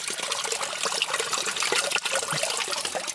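Water pours steadily from a hose outdoors on a mountain, a close, loud continuous splashing gush with no pauses and no talk.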